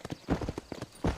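Horse hooves in Red Dead Redemption strike in a quick, rhythmic clip-clop at close range, a brief burst of galloping footfalls.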